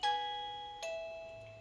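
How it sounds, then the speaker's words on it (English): A classroom doorbell chimes twice, a clear two-tone ding-dong with the second note arriving under a second later. Both tones ring out and fade slowly, moderately loud, with no voices. "When I need to get my students' attention, I'll ring our class doorbell"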